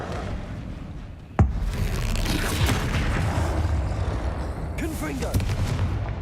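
Incendio fire spell cast in Hogwarts Legacy, a sharp sudden burst followed by a sustained roaring whoosh of flame, loud and close, with faint voices underneath.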